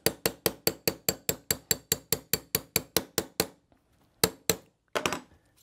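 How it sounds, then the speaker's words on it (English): Steady run of about sixteen sharp metallic taps as a 3/32 inch punch drives the rear sear housing roll pin out of an FN 509 pistol frame, followed by a pause and a few more isolated strikes, close and clear. "We're going to tap out this rear sear housing pin right here."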